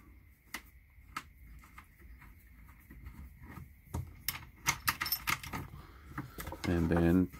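Metal washers and nuts are handled on the handle of a Frankford Arsenal deprimer, making scattered light clinks and taps, close and quiet, that build into a busier run of metallic clicks before a louder rattling burst at the end.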